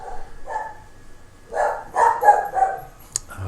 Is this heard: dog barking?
yes